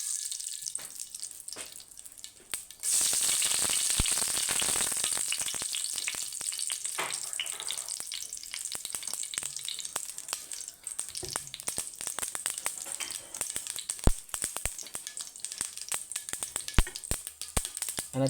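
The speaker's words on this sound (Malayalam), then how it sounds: "അങ്ങനെ കടുക് പൊട്ടിക്കൊണ്ടിരിക്കുകയാണ്." Mustard seeds spluttering and popping in hot oil while tempering for beetroot pachadi, a dense steady sizzle after a quieter start, with sharp irregular pops and crackles scattered throughout, close and fairly loud.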